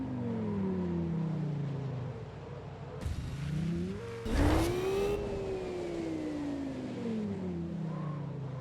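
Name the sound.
racing car engine revving and wind rush in a video game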